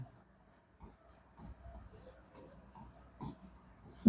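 Chalk or marker scratches across a classroom board during a Hindi geography lesson, a series of short, faint strokes with soft taps between them, heard close and alone in a quiet room.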